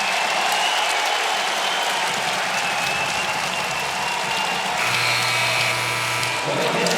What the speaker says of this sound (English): it's just great to hear a crowd